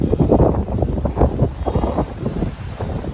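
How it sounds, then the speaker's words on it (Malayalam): Strong wind buffets the microphone with a continuous low roar and gusty rumbles, loud and close throughout. "അമ്മാതിരി കാറ്റെന്ന് പറഞ്ഞാല് നമ്മളെ പുറത്തെ കൊണ്ട് പോണ കാറ്റല്ലേ"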